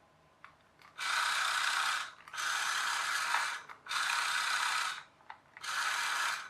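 Gears of an RC low rider toy truck whirring in four short bursts of about a second each, separated by brief pauses, close and fairly quiet with a grinding ratchet-like buzz.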